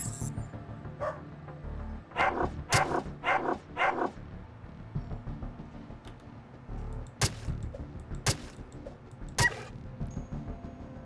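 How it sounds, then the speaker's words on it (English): Dogs in the Underrail video game bark in short, sharp bursts, a quick cluster of several barks followed by a few isolated yelps, set against a low game ambience. "Now, it did bark in warning, so that will get someone's attention."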